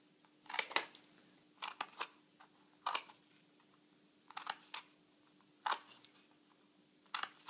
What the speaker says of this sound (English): you need to cut out those notches